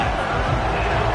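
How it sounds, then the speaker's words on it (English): A steady, loud roar from the home crowd of a Madden 24 football video game, heard as an unbroken wash of stadium noise with no distinct peaks. "Here comes this home crowd"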